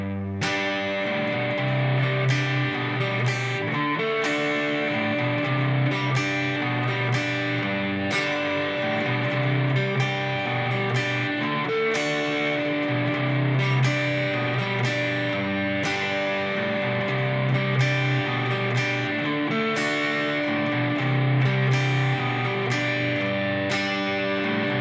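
Electric guitar with distortion plays the chorus riff of a song, three riff parts looped together, in steady repeated chords and palm-muted strums, loud and unaccompanied with no talking.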